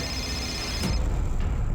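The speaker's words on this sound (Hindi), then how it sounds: "संतोष के वॉचमैन का फोन था" A brief electronic phone ring tone cuts off after about a second, leaving a low rumbling room background.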